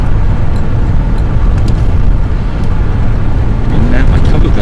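A Chevrolet C1500 V8 pickup, converted from TBI to an Edelbrock 1406 600 cfm carburetor with a calibration kit, drives at light throttle, giving a steady low engine and road drone throughout with faint talk inside the cab.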